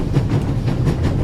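A moving train in the video game The Raven gives off a steady low rumble with soft rhythmic clatter, continuous and fairly loud for the whole short stretch.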